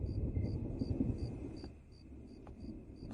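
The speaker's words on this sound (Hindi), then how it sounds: "तूफान आने वाला है" Low thunder rumbles steadily under the constant chirping of crickets as a storm approaches at night, with a few soft clicks and no voices.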